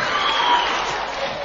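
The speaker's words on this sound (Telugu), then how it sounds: "లక్ష్మీనారాయణ గారికి గట్టిగా చప్పట్లు." Audience applause at a Telugu audio release event for the film Varudu, a steady dense patter of many hands clapping at moderate volume for about a second and a half, with no voices standing out.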